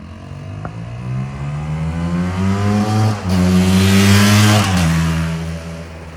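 A KTM 300 EXC dirt bike engine revs loudly and close, rising and holding in two surges with a raspy two-stroke roar and a brief dip between them, with no voices.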